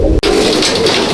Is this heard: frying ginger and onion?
no